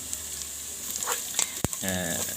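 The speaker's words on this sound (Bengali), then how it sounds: "একটু হালকা নেড়ে দিচ্ছি যেন এই মশলাটার ভিতরের থেকে আসলে তেলটা বের হয়" Chili, turmeric and cumin powder fry in oil inside a rice cooker, giving a steady close sizzle with a sharp scrape or clack from stirring partway through.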